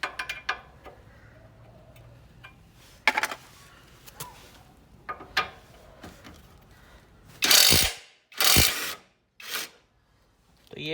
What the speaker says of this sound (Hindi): तो ये इम्पैक्ट रेंच से खुल चुका है।